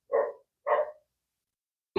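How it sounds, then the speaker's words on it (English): A puppy barks indoors, two short close woofs in quick succession, followed by the start of a third after a pause, with no voices. "My puppy's barking."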